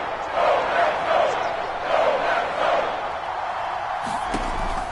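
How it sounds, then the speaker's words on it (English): A crowd in a football video game on PS4 chants in rolling, swelling waves before a big third down, with a thud near the end. "the crowd getting into it as we come up on a big 3rd down."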